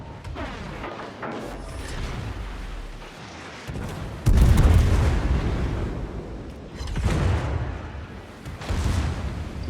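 Heavy booming salvos from a warship's main guns in World of Warships, the Moskva cruiser in a ranked match, loud deep blasts with rumbling tails recurring several times amid battle noise.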